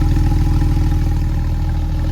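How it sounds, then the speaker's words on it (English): A loud, steady 2018 Porsche 911 Carrera 4S 3.0 twin-turbo exhaust idling in sport setting with a deep, pulsing low rumble and a faint rattling texture, close by, no talking. "I want you all to hear this exhaust."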